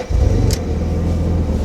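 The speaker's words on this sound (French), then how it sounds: "Nous, ce qui nous intéresse, c'est le moteur, et c'est ce que je vais faire tout de suite, parce que je vais vous le démarrer." Alfa Romeo 147 GTA with its Busso V6 engine, a 143,000 km example, starting: a brief cranking burst catches into a loud, steady deep idle close by.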